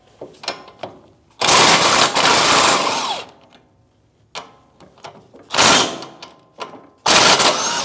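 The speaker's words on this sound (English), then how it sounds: "Now with a 21mm socket, we're going to remove both of these mounting bolts." Mounting bolts on a rear trailing arm of a 2016-2025 Chevrolet Malibu being removed with a 21mm socket, heard as loud bursts of a power tool rattling for a second or two, separated by quieter pauses with light clicks.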